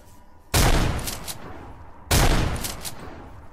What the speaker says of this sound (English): This shotgun is outstanding.